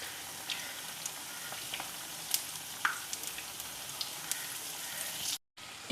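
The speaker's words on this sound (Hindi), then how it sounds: "टिक्कियाँ दोनों साइडों से फ्राई हो चुकी हैं" Kebab patties fry quietly in a pan with a soft, steady sizzle and scattered light pops and crackles. The sound cuts out briefly near the end.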